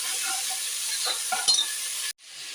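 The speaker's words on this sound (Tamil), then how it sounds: "சேர்த்து இது இப்போ நல்லா வதக்கிக்கலாம்." Tomatoes and green chilies sauté in a pan for a vegetable biryani, giving a steady close sizzle with light stirring scrapes, then a brief sharp cut near the end before the frying resumes.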